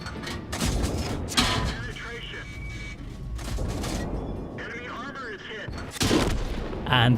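Tank cannon shots boom out in a World of Tanks battle, an Italian-line tank trading fire, with several loud blasts and rumbling impacts amid ongoing combat noise.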